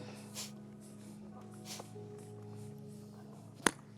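In a yoga breathing practice, soft puffs of forceful nasal exhalation, like clearing the nose, come quietly at intervals, ending with one sharp, loud snort-like burst.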